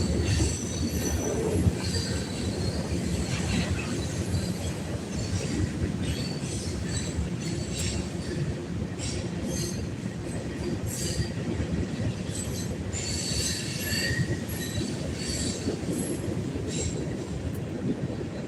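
A train rolls past a riverside fishing spot on a hot day, a steady distant rumble of wagons with faint wheel squeals and clatter continuing throughout, no voices.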